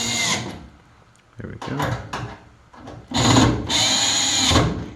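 A power drill drives screws into the motor of an over-the-range microwave being installed: several short, loud whirring bursts close by, separated by pauses, with someone speaking briefly between them.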